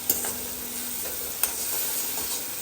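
Leftover rice is tempered in a hot pan, a continuous sizzle with a couple of sharp metallic clinks of a utensil, close by and without speech.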